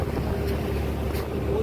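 A boat crossing open water toward Jambu Dwip near Bakkhali, with a steady low engine drone and wind buffeting the microphone throughout, and no talk.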